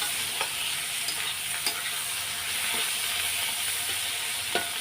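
Chopped tomatoes and spices sautéing in a pan for an egg curry, giving a loud, continuous close sizzle with occasional sharp stirring clicks and no talking.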